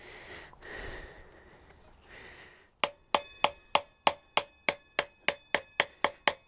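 Rapid metal-on-metal hammer blows, about a dozen sharp evenly spaced strikes close by, unstaking the stub axle nut on a Honda VFR800 after a stretch of quieter handling noise.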